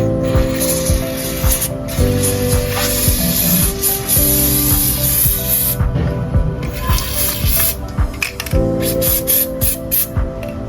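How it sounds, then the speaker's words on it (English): Chain lubricant sprayed onto the chain of a gear-driven shoe rack in repeated hissing bursts, close and fairly loud over a steady tonal background hum. "kita perlu menggunakan minyak rantai ataupun chain loop dan spraykan pada rantai."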